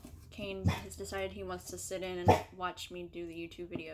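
Someone talks while a dog gives two sharp barks in the background, spaced a moment apart.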